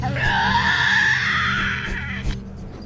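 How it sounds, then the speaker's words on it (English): A Tasmanian devil in wild forest gives a loud, harsh, sustained screech lasting about two seconds, then trails off into quieter rasping sounds near the end. "A female Tasmanian devil hones in on the unmistakable sound of her own kind."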